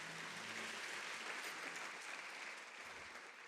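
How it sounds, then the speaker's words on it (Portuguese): Congregation applause during a church service: dense, sustained clapping from a crowd, steady and fairly distant, fading slightly near the end. "Se você crê, dá uma salva de palmas para Jesus."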